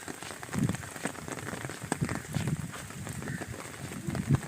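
Heavy, steady rain pours down on a rural Punjab farmstead after falling all day, a constant hiss with scattered sharper drops and splashes close by, no voices over it.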